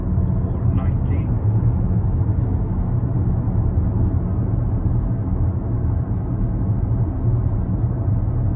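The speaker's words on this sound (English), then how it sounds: "Polestar 3 without performance, with the 21-inch wheels, and we are driving just below 100" Steady low road rumble and tire roar inside a Polestar 3 without the performance pack on 21-inch wheels, cruising just under 100, constant and even with a faint wind hiss, while a voice talks over it.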